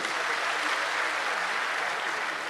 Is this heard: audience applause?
yes